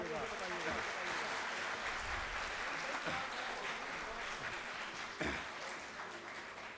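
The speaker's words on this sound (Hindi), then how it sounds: "जरा तालियों से बताइएगा।" Audience applause at an Urdu poetry mushaira, sustained dense clapping from a crowd, with voices talking over it and a sharp clap or bump partway through.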